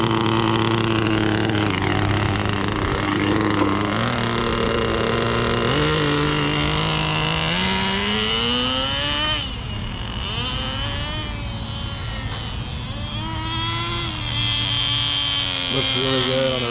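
An HPI Nitro RS4 nitro RC car engine idles and revs loudly up close as it warms up, its buzzing pitch stepping up and sliding down continuously throughout.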